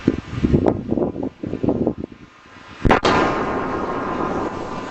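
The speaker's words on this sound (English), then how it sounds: "the piece of audio that I did find of the explosion, this is from a mile away" A bombing explosion heard from about a mile away lands as a sudden loud boom followed by a sustained rumbling roar, after a stretch of people talking nearby.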